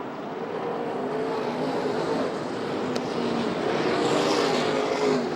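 USAC National and CRA sprint cars racing at Phoenix, a steady, loud engine drone from the pack that holds and rises slightly toward the end, with no voices.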